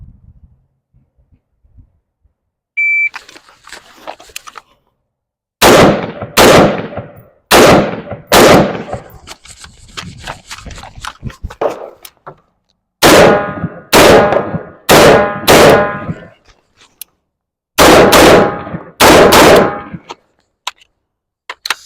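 Close, loud bursts of MK18 rifle fire in fast strings, each shot ringing off steel targets with a metallic clang, grouped in several volleys separated by short pauses.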